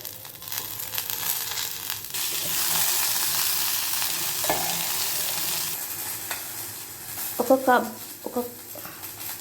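Green chillies and a handful of mint frying in a pan, a continuous sizzle with scraping stirs and a few sharp clinks of the spatula near the end, while a person talks over it.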